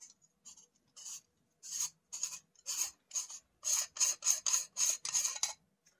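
A collar on a scope clamp being unscrewed, heard as a string of short, crisp scraping and rasping strokes that speed up into a quick rhythmic run, close and clear with no talking.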